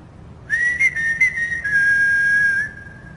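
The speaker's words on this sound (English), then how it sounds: "was a very faint whistling just above the table" A single thin, faint whistle floats just above a table during a hushed night-time investigation in a quiet town, holding a steady tone for about two seconds with slight wavering, then stopping, with no talk over it.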